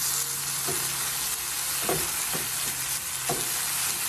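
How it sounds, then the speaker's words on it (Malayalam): Tomato dropped into a hot pan for Kerala-style stuffed chicken, with a steady, close frying sizzle throughout and a few soft clatters of stirring, no talking. "ഈ സമയം ഞാൻ ഇതിലേക്ക് ഒരു ടൊമാറ്റോ എടുത്ത് വെച്ചിട്ടുണ്ടായിരുന്നു, അതിട്ട് കൊടുക്കുകയാണ്"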